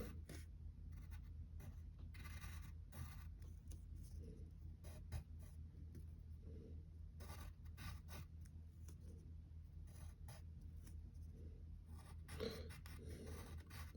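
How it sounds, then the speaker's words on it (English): Pencil scratching across paper while sketching the superhero Superman, a faint continuous rasp of short strokes and scribbles, close up and quiet with no talk. "And then we draw his fingers."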